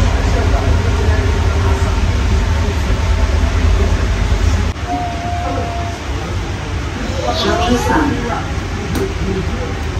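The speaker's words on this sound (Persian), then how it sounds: "این هم استانسیون متروی دیگری شهر پاریس." An underground Paris metro station: a train rumbles loudly, its deep drone easing partway through, with squeals and clatter later as it moves. Someone talks over it.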